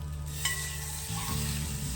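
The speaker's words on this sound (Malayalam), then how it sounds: "ഇളക്കി വറുത്ത്" Beef sizzles steadily in a hot pan while a utensil scrapes and stirs, close up with no talking.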